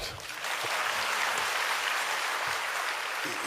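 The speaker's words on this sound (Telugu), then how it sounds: "చప్పట్లు కొట్టచ్చు పర్లేదు." Audience applause at a Jana Sena Party committee meeting, a steady, dense clapping from a large crowd that holds for the full stretch without talk.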